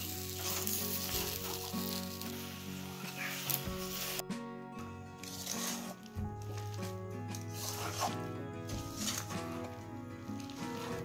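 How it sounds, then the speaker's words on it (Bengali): Jujube plums are stirred with jaggery in a hot pan, giving a continuous close sizzle with soft sticky squelches and scraping, over an ongoing low droning hum, with no talking. "এবার এটাকে হালকা করে নেড়ে নেড়ে গুড়ের সাথে ফুলগুলোকে ভালো করে মিশিয়ে নিতে হবে।"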